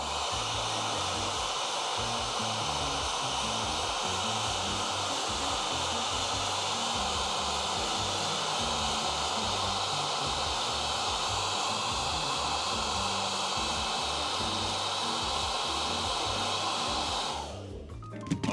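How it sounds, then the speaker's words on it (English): A hair dryer runs continuously at close range, a steady loud broadband whoosh with a low motor hum, cutting off near the end. "What does that sound? It's Laurent's hair dryer."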